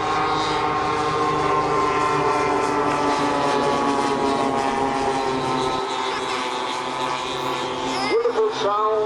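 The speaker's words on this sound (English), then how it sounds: "Wonderful sound, a little bit of synchrony there of the engines on side." Light aircraft engines droning together at an air show on a former RAF satellite airfield, a steady loud propeller hum with beating, slightly drifting tones throughout, a voice speaking over it near the end.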